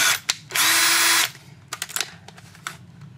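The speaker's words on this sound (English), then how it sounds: "I'm just using a battery drill," Cordless battery drill fitted with an 8mm Bosch metal bit boring into a steel chainsaw bar: a loud, sustained high whine for under a second, then short clicks and knocks from handling the tool and workpiece.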